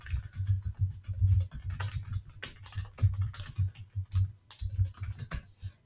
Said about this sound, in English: And you will be typing here.